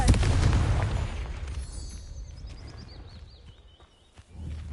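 A Confringo spell explosion in a video game: a loud, deep boom up front that rumbles and fades over a few seconds into a high ringing tail, with a faint thud near the end.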